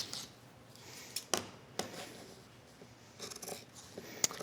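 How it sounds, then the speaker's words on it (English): Scissors cut a 10-inch fabric circle for a sewn makeup bag, giving a few separate crisp snips and a short run of quieter cutting near the end, close and fairly faint. "we're cutting our 10-inch circle"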